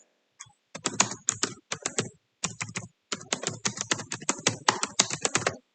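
Someone types code on a computer keyboard in quick close bursts of sharp key clicks, with short pauses between runs of strokes and no talk.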